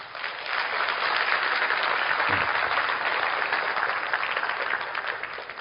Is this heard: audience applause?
yes